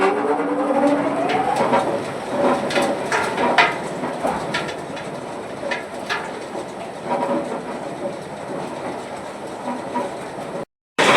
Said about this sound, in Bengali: তো অন হয়ে গেল আমার মেশিন। তো এখন কন্টিনিউ চলবে